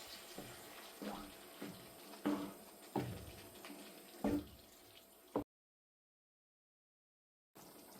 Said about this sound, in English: I've drained the water out of the kidney beans